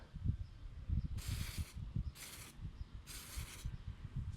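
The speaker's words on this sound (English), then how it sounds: "So I'm spraying Lesco Prosecute" Three short bursts of hissing spray from a handheld sprayer applying Lesco Prosecute herbicide to creeping Charlie weeds in a landscape bed, close by, over low rustling and handling noises.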